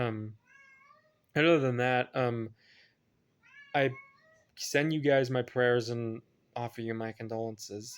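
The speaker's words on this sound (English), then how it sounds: "you can hear my cat in the background" A house cat meows in the background, faint and intermittent, under a person speaking in a quiet room.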